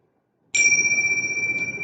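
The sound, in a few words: meditation bell chime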